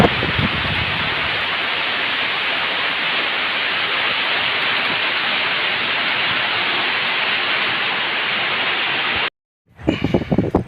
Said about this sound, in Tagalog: At dahil ba ulan na ngayong araw na to, hintay lang natin huminto ang ulan